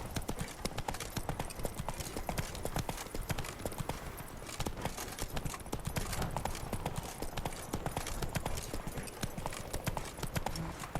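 Horse hooves clip-clop in a steady, driving gallop through the whole stretch in The Witcher 3: Blood and Wine, dense and close with faint game ambience and brief voice fragments underneath.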